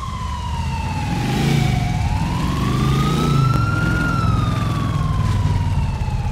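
Police car sirens wail in the GTA The Lost and Damned game, a loud rising and falling tone that sweeps continuously across the whole stretch, layered over rumbling engine and traffic noise.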